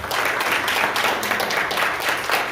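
A church congregation applauds during a worship service, a steady crowd of clapping hands with fairly even density throughout, moderately loud and without talk over it.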